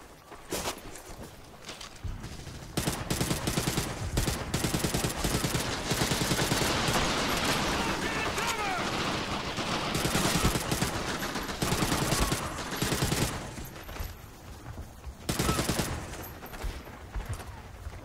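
Gunfire in the video game Medal of Honor: European Assault, with sustained automatic bursts and overlapping shots that rattle on for long stretches, breaking off briefly and then resuming loud and close.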